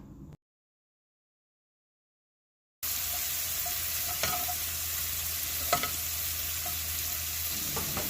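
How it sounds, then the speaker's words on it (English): Shrimp sizzling in a hot skillet, a steady crackling hiss after a brief silence, with a few soft clinks of stirring. "Listen to that sizzle."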